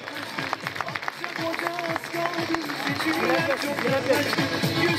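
An audience at an opening ceremony applauds as a former municipal council member is invited on stage, with brisk, crowded clapping growing louder under music and crowd voices.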